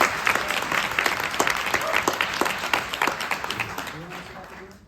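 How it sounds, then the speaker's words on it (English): An audience at a Sundance Film Festival Q&A applauds the cinematographer Adolfo Veloso, a steady burst of clapping that thins out and fades over the last second, with faint voices underneath. "it's worth giving a round of applause to Adolfo Veloso"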